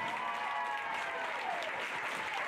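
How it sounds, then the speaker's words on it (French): A crowd at a pony games prize ceremony for club minime riders applauds the champions with steady, dense clapping and faint background voices and tones. "Allez, vous pouvez les applaudir plus fort."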